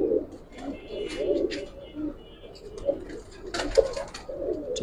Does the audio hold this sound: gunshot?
no